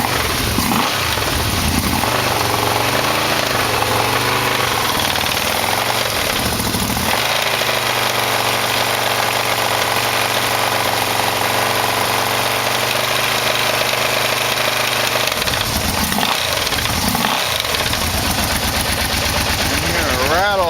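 A Yamaha Vmax motorcycle engine idles steadily up close, with a slight exhaust leak and a faint thin-metal rattle, and its loud continuous rumble briefly rises and dips near the middle and end.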